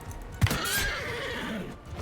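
A horse whinnies sharply in a Mount and Blade castle siege battle, a loud close neigh with a falling tail over busy battle noise and hoof clatter.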